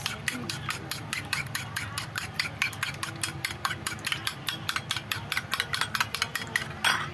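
Eggs being scrambled in a pan alongside okra and green chili, with a steady, rapid series of metallic scraping and tapping strokes from a utensil against the pan, continuing rhythmically throughout.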